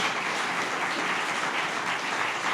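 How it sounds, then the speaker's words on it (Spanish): Steady applause from a church congregation during a Spanish-language sermon, a dense even wash of many hands clapping at moderate loudness, alone with no voices over it. "Dale un aplauso al Señor, hermano"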